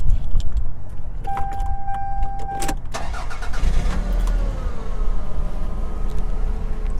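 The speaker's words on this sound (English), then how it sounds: "Let me start the car so you can hear the sound." A 1995 Toyota RAV4 J two-door, right-hand-drive, with low mileage: keys jangle and a brief electric whir, then the engine cranks and catches, settling into a steady idle nearby.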